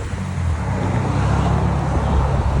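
A 2015 Subaru WRX 2.0L turbo with straight-pipe exhaust idles with a deep, rumbling exhaust drone, loud and close, steady throughout with a low throb.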